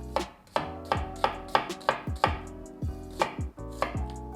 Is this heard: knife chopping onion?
yes